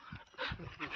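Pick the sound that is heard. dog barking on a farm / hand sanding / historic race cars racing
dog barking on a farm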